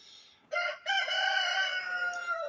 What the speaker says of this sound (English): we're gonna have to kind of go through this with the rooster crowing